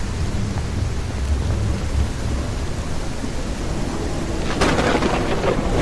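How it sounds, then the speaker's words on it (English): Thunderstorm with steady rain in the survival extraction game Hunters: Uprising, a continuous wash of rainfall with low rumbling thunder, swelling louder with a sharper crack near the end. "I think we're getting a full-on storm coming."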